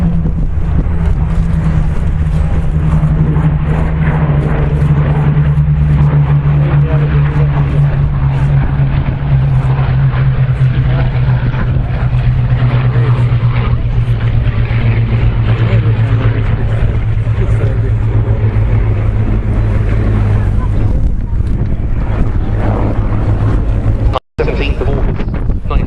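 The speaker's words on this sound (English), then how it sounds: "running in from the left, the Hurricane 1 and the Spitfire 2A." A Hurricane I and a Spitfire IIA fighter pass at an air show, their piston engines a low steady drone under heavy wind buffeting and a commentator's voice, fading out near the end.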